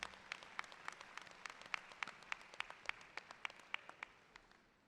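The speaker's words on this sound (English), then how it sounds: "Please join me in giving them a round of applause" A commencement ceremony audience gives a fairly faint, distant round of applause, steady crisp claps that thin out and fade toward the end.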